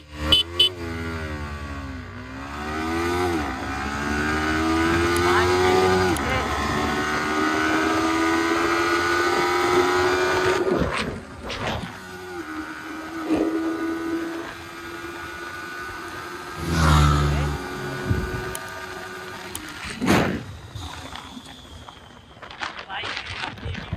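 Two Yamaha R15 motorcycles, a V4 and a V3, launch in a drag race. Their engines whine and climb through the revs, then ease off, while voices talk over them and sharp knocks break in now and then.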